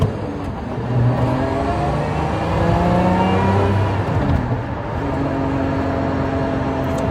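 A Lotus Emira sports car engine drones steadily while driving, with a broad mid-range hum and rising harmonic whine lines that shift as the revs change, heard from inside the cabin with no talk.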